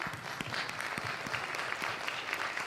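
Sustained applause from an audience at an anti-trafficking awareness event, dense steady clapping filling the room at an even level throughout.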